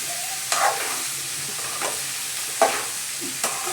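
Ivy gourd (dondakaya) frying in a pan and being stirred, a steady soft sizzle with a few distinct scraping strokes of the spatula spaced apart, close and moderately quiet.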